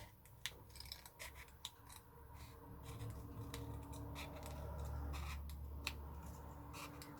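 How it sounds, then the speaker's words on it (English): Scissors cutting a small circle from paper for a craft wand, crisp irregular snips close by and fairly quiet, with no talk. "Okay, so cut myself a little circle."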